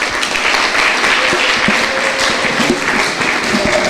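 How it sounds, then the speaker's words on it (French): An audience applauds at a civil society gathering in Congo, loud, close and sustained clapping filling the whole stretch, with some crowd voices beneath. "Est-ce qu'on peut l'applaudir?"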